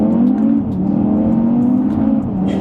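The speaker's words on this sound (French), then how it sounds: "On va quand même se faire un petit launch control." An Audi TT RS Iconic Edition on a wet road under launch control acceleration, its engine droning loud and steady as revs climb and shift, close and continuous with no talk.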